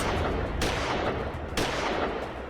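Two sharp gunshots crack out in a Nigerian film scene, loud and close, spaced about a second apart, each followed by a brief ringing decay with no talk over them.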